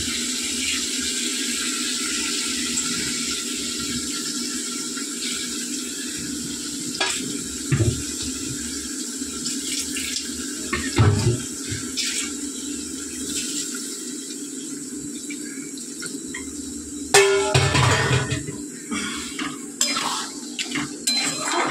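Water poured into a bowl of spices in a kitchen, a running, splashing trickle with scattered clinks of a metal bowl and utensils, moderately close.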